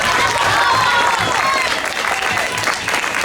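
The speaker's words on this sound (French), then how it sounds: "Sous les applaudissements du public." Spectators applaud at a youth cycling school race in Occitanie, steady clapping mixed with crowd noise and voices, holding fairly loud throughout.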